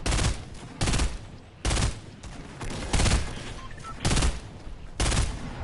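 Gunfire in the Fortnite video game: six rapid bursts of automatic shots come at roughly one-second intervals, loud and close, with short quieter gaps between them.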